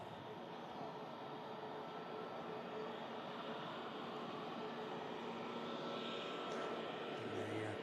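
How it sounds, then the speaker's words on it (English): A Corendon Boeing 737 MAX touches down at Manchester Airport, its steady broadband jet roar rising slightly toward the end, a continuous moderately distant wash of engine noise with no distinct impact. "737 MAX has just touched down."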